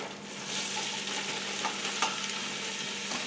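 Onions and peppers sautéing in hot oil for a Passover chicken dish, a steady close sizzle with occasional stirring scrapes and pops throughout.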